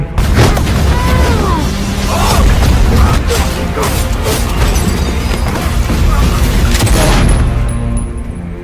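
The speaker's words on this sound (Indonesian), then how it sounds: "Namun karena terdesak, Kaini terpaksa melepaskan tembakan" Loud, dense gunfire and booming impacts from the action film Land of Bad, with bursts and crashes layered over a constant rumbling action soundtrack.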